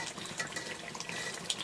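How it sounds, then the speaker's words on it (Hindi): Two glasses of water poured into a pot of browned turnips and meat for shaljam gosht, a steady rushing splash that runs unbroken for under two seconds with no voices. "अब हम इसके अंदर 2 गिलास पानी शामिल करेंगे शलजमों को डालने के बाद।"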